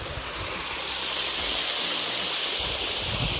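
Water rushing and splashing in a steady, broad hiss, fairly close and continuous, with no one talking.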